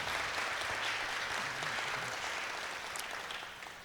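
A congregation at a church service claps in welcome, a dense, steady applause that slowly fades toward the end.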